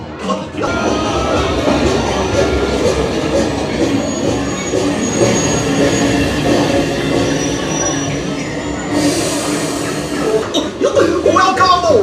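A Disney park railroad train rolls along with a steady, loud rumble and rattle of cars on track, with a brief high tonal squeal or whistle near the end.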